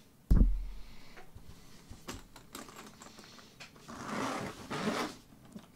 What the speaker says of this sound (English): The zippers are very, very good quality zippers. They sound great.